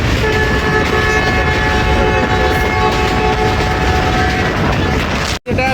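The Jaffar Express rolls toward Golra Sharif junction, a loud continuous rumble of the moving train heard from on board, with sustained tonal horn or brake hums over the noise and a brief cut near the end.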